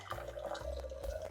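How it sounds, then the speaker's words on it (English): Hot liquid trickles slowly into a French pastry mixture, a soft, steady pour with faint drips, close and quiet, lasting just over a second. "we're going to stir this constantly as we slowly pour it in"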